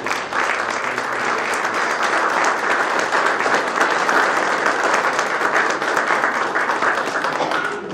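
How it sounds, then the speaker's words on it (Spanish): A crowd at a legislative chamber applauds students presenting handcrafted products, a steady, loud wash of many hands clapping for about eight seconds without pause. "vamos a darles un fuerte aplauso nuevamente a las alumnas"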